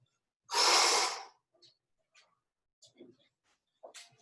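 Heavy, loud breath burst right after a workout round, a long forceful exhale followed by quieter scattered breaths and snorts, close to the mic.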